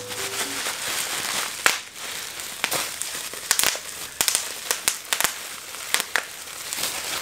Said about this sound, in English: Here we have some bubble wrap.